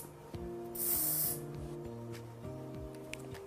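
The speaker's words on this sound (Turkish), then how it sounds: "Spreyle netleştiriyoruz." A single short hiss of aerosol hairspray, close and bright, lasting under a second over soft background music.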